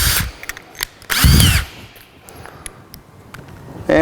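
Power tool driving screws through a board into a long-span work bench beam: a few short whirring bursts, one longer loud run near the start, up close, with quieter handling noise between.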